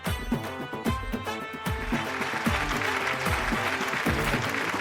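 A studio audience claps during a TV game show, the applause swelling into a dense, steady wash over rhythmic background music.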